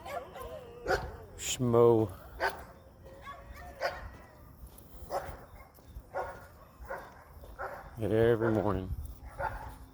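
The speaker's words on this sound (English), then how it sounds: "Every day they bark at me" Dogs bark at someone passing on a 4 a.m. walk, with several sharp barks and yips at near to middle distance, some whimpering in between, and a voice talking over them.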